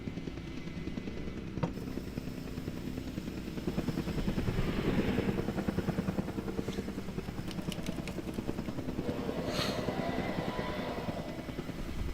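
Helicopter rotor chopping steadily throughout in a dinosaur park building video game, a continuous mid-level drone with rhythmic pulsing and a few brief sharp pops over it.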